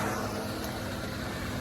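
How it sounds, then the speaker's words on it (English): A moped passes on a dirt road in Kansas, a steady engine drone with road rumble heard at moderate distance, fairly quiet and brief. "Oh, it's a moped."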